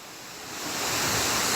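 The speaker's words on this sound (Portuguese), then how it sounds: "A correnteza arrastou os carros estacionados." Floodwater in Realengo rushes through a street with enough force to sweep away parked cars, a dense, steady roar of water that swells louder over a second and a half.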